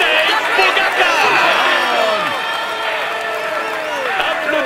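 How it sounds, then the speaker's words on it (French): Arena crowd at the Tour de France 2022 final stage in Paris, a continuous roar of cheering, whoops and clapping with an announcer's voice over it. "Applaudissez-le comme il le mérite."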